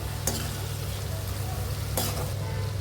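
Spinach and eggplant curry stirred in a pan, a steady low sizzle and scraping running throughout, with two brief sharper clatters of the spoon against the pan.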